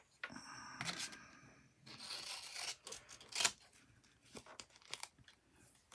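Scissors roughly cut through painted card tags in a series of close, crisp snips and crunchy rasps that come in irregular bursts, with quiet pauses between them.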